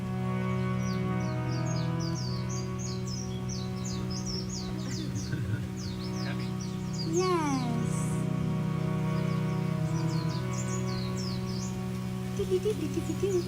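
Birdsong chirps and calls repeat through a spring garden at a Hanuman temple on Maui, layered over sustained drone-like musical tones and a voice.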